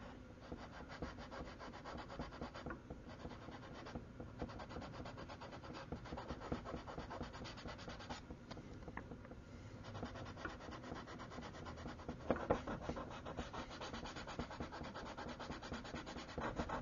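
A motorized typewriter eraser rubs steadily against a painted portrait surface, making a continuous faint abrasive scrubbing with slight variations in pressure and no voices.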